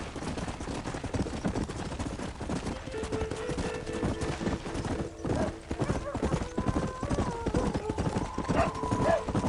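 Horse hooves clip-clop steadily in a galloping rhythm throughout a Red Dead Redemption ride, close and continuous, with an occasional whinny and faint game sounds mixed underneath.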